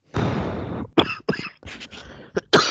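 A person coughs close by, starting with a long rough cough and then a few shorter harsh bursts in an uneven sequence.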